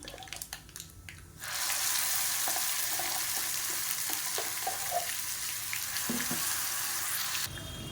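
Mustard seeds, urad dal and curry leaves hit hot oil for a Tamil-style chutney tempering, breaking into a loud, steady sizzle after a few quiet clinks and staying close and even until it abruptly cuts off.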